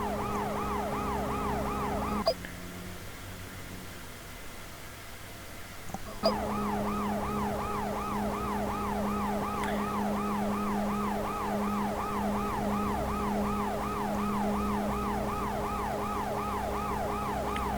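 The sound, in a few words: ambulance siren in World's Scariest Police Chases video game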